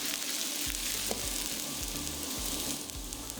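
Garlic, ginger, chilies and the white parts of green onions fry in a pan, giving a continuous crackling sizzle with periodic scraping stirs, close and fairly loud, with no voices.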